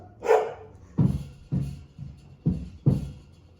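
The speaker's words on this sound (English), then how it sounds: "These dogs do not like that truck." Dogs bark at a passing UPS truck in several separate, fairly loud woofs spaced about half a second apart, with a low rumble underneath.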